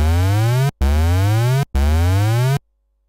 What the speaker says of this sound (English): Now you can hear the pitch of the oscillator is being affected by another oscillator